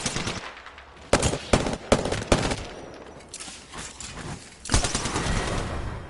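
Gunfire in the video game Apex Legends, bursts of rapid automatic shots and separate sharp single cracks, loud and close with short gaps between volleys.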